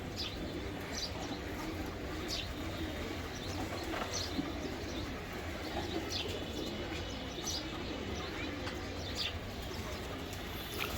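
Racer pigeons coo softly and steadily over a dense, continuous background hum, with occasional faint chirps scattered through the scene and no clear talk.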